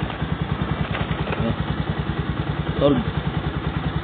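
A motorized tricycle engine running after a bearing replacement: a steady, close, rhythmic thumping idle that persists throughout, with a brief voice heard partway.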